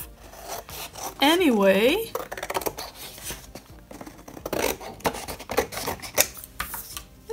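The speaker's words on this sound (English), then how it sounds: "these borders are fabulous, so I'm going to cut them off" Scissors cutting the decorative borders off a paper journal card, giving repeated close rasping snips and rubbing paper sounds, with a brief voice at one point.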